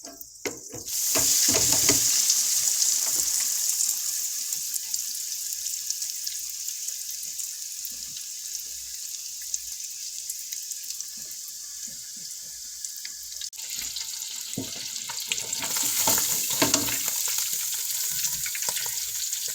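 Homemade mozzarella sticks deep frying in hot grease make a loud, continuous close bubbling sizzle that holds steady for the whole stretch, with no talking.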